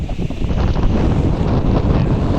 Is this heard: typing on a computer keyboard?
no